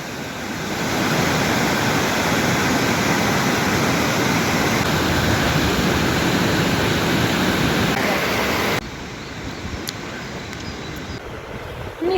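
A waterfall in a quiet natural spot roars as a loud, dense, unbroken rush of falling water, close and steady, then drops in level near the end.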